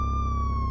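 A steady, loud siren tone from an ambulance in the VR driving game Ambulance Driver Life, one sustained wailing pitch held close with no talk over it.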